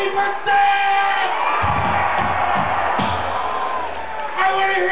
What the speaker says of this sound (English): I want to hear you screaming and I don't want to hear you stop until they stop playing!